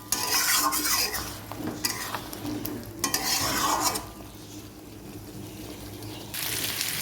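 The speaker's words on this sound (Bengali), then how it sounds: "মশলার সঙ্গে হলুদ তাও দিয়ে দিলাম ভালো করে কষিয়ে নেব" Spice paste with turmeric and two dried red chillies is stirred and fried in a pan, giving close scraping strokes over a soft sizzle, then a quieter stretch before the sizzling swells again.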